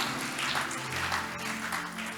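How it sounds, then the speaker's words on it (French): A church congregation at a revival service claps for its elders, producing a steady dense wash of applause throughout. "Acclamons bien pour nos papas."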